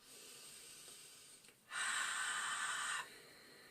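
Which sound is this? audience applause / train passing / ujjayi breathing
ujjayi breathing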